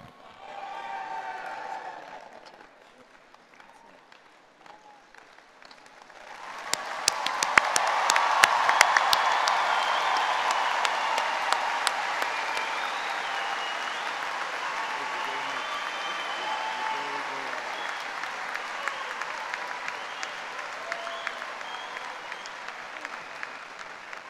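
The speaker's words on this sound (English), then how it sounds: "Let's have another round of applause." A large commencement crowd at a university ceremony breaks into sustained applause after a faint stretch near the start, the clapping swelling quickly and holding steady, with occasional sharp individual claps and light cheering.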